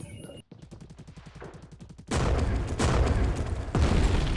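Gunfire in the Scarfall 2.0 mobile battle game: a rapid string of evenly spaced shots, then a louder, dense burst of heavy firing and blasts that fills the rest of the moment.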